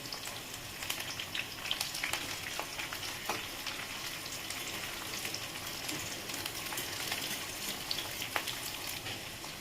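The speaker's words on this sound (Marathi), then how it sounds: "चला छान असं परतून झालं आहे मिरची आणि लसूण" Four or five green chillies and garlic frying in a pan for fenugreek leaf bhaji, a steady low sizzle with crackles and occasional stirring scrapes, no voices.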